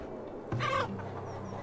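Chickens in the farming game Farthest Frontier give a short burst of clucking, close and fairly soft, with a quiet low game hum and no speech.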